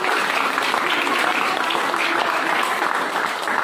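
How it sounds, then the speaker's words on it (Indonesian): Applause from a classroom group during a biology lesson on Mendel's laws, a steady dense wash of clapping that lasts the whole stretch at even loudness. "Tepuk tangan untuk kita."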